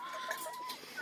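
A fighting rooster and a hen cluck and call nearby in a brief, busy burst, with a thin high tone running underneath.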